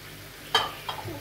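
Rice stirring in chicken broth in a pot: a brief scraping swish near the middle, then a softer second stroke, over a low steady background hum.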